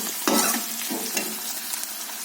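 Onions browning in a pan, a loud close sizzle with a few sharp scrapes and clatters from stirring, no speech.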